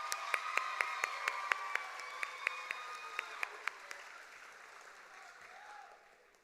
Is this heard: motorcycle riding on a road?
no